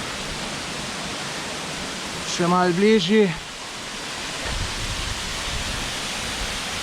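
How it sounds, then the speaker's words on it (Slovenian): Waterfall in Pekel gorge, Slovenia, pouring as a steady, dense hiss of falling water heard up close, with someone speaking briefly over it. "Res lep slap."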